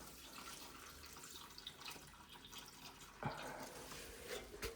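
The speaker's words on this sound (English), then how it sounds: "Let's bring this little watering can in and give it some." Water pours from a small watering can onto a very dry houseplant indoors, a soft continuous trickle and splash that grows slightly fuller near the end.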